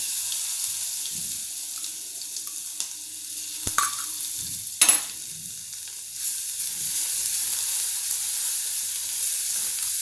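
Chutney crackles and sizzles steadily in hot tempering oil with curry leaves in a pan, with a couple of sharp clatters from utensils; nobody speaks.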